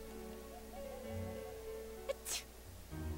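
A single sharp sneeze from a character in the video game Persona 4, heard once over quiet background game music.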